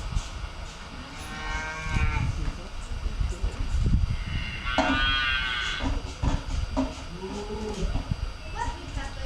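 Cows moo during a student stage performance of Animal Farm, several drawn-out lowing calls rising and falling over a busy, noisy hall with people talking throughout.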